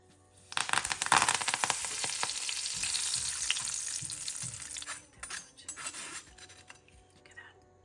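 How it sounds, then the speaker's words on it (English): Bombay mix ingredients being fried in hot oil inside a sieve, opening with a sudden loud crackling sizzle that stays steady for several seconds. Scraping and clinking metal then breaks in, and the frying fades to a quieter hiss. "I'm going to put them in the sieve and fry."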